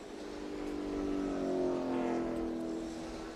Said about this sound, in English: So there's Johnson slowly bringing that car back to pit road